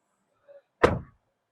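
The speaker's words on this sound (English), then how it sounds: "let me just close the door" A door on a Zeekr 7X shuts with a single firm, solid thud after a faint brief rustle, close and otherwise quiet.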